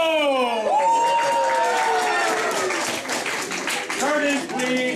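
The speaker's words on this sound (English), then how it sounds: "A round of applause for Art Artists." A winter concert audience applauding and cheering, loud clapping with whoops and shouts from the crowd over several seconds.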